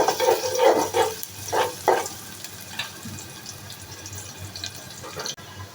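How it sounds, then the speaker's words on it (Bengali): Water poured into onions frying in a pan, a few loud splashing gushes and hisses at the start that settle into softer bubbling and dripping, heard close with no voices. "পেঁয়াজের মধ্যে এখন পানি অ্যাড করে দিচ্ছি।"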